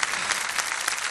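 Audience applause following a performance of a Turkish song with guitar accompaniment, a dense steady clapping that fills the whole short moment without pause.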